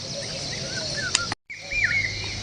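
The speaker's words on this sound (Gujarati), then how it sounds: "સાંભળાતું છે, પક્ષીઓ બોલે." Several short bird chirps ring out at mid distance over steady outdoor hiss, broken by a brief gap, with a few rising whistled notes afterward.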